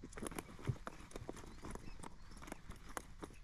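A horse's hooves clip-clop close by in an irregular stepping rhythm around a mounting block, quiet and with no talk.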